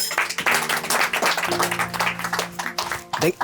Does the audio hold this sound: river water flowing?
no